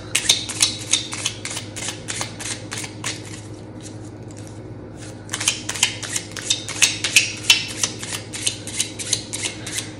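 A Venom-themed tarot deck shuffled close up in two bursts of crisp, rapid card flicks and slaps, separated by a brief pause, fairly loud and without talking.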